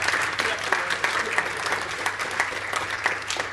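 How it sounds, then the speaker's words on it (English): A church congregation applauds steadily throughout, dense clapping from many hands with occasional louder claps standing out, sustained at an even level for several seconds. "Round of applause for Alexia."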